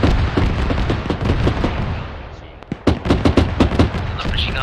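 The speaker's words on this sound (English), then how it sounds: "Another machine gunner." Machine gun fire in the video game Arma 3 rattles in bursts, a dense stretch of shots early, then a lull and a rapid string of sharp, loud cracks near the end.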